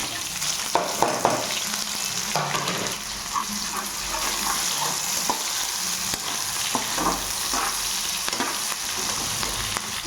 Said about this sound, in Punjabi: ਆਪਣੇ ਪਿਆਜ਼ ਭੁੱਜ ਗਏ ਆ